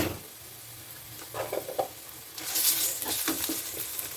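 Ginger garlic paste sautés with fried onions in a pan for fish gravy, a soft steady sizzle with a few scraping stirs and a louder burst of frying partway through.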